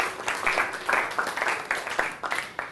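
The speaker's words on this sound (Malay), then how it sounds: "tepukan pada diri sendiri" Scattered applause from a small group, with uneven claps rising and falling over a few seconds and some faint voices mixed in.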